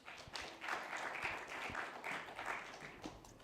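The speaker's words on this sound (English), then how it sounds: "If we can all give him a warm round of applause to welcome him to the stage." Conference audience gives a warm round of applause as a speaker is welcomed to the stage, a steady, even wash of many hands clapping throughout, with no talk over it.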